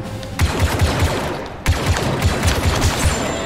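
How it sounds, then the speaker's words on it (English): Rapid bursts of blaster-style gunfire in Star Wars Battlefront 2 fire shot after shot in a steady rhythm, briefly cutting out before resuming just as loud and dense, close up with no talk. "That's how we do it with the shotgun."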